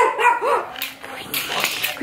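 A dog barks twice in quick succession, close and fairly loud, while a person talks over it in a garden.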